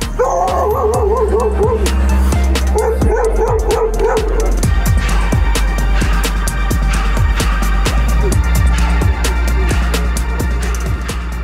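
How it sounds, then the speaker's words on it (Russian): A dog at a rescue scene, where a person had lain for hours, yelps and whimpers in high, wavering cries, then barks repeatedly, loud and close over steady background noise. "Собака хорошая и преданная, естественно, но человека нужно было"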